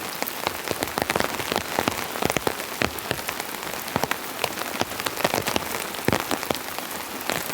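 Heavy rain drums steadily on a van's roof, a dense patter with sharper individual drops cracking through, loud and close with no voices.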